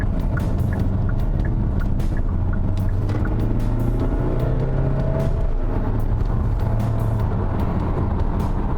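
A 2021 Hyundai Santa Fe pulls away from a start, its engine note rising steadily and then shifting under constant cabin road rumble, heard from inside, with no talk.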